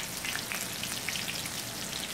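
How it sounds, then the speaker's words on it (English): Panko-breaded shrimp frying in hot oil, a dense, steady crackling sizzle with bright popping spatters throughout, close and continuous with no voices. "I love that sizzle. Don't you just love hearing stuff fry?"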